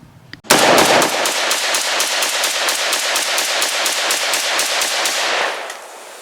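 A Beretta BM59 rifle fires a long, rapid, evenly spaced string of loud shots at an outdoor range, with sharp reports continuing for about five seconds before stopping abruptly.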